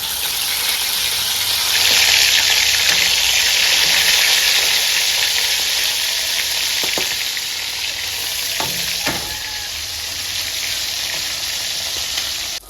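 Fish frying in hot oil gives a loud, continuous sizzle and crackle, steady throughout, with a few faint clinks of a utensil.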